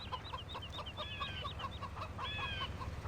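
Chickens at a coop in Farming Simulator 17 cluck in steady, overlapping calls above a low continuous rumble, moderately near and without speech.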